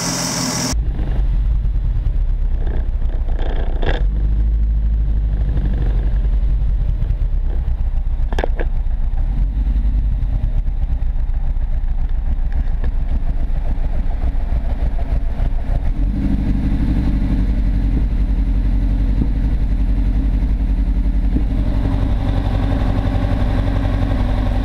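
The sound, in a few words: Ford Fiesta XR2 engine revving at full throttle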